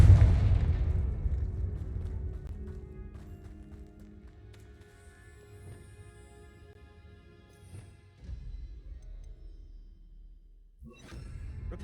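A Confringo explosion spell in Hogwarts Legacy bursts with a loud booming blast at the start that rumbles and fades away, followed by quieter scattered thuds and game sounds.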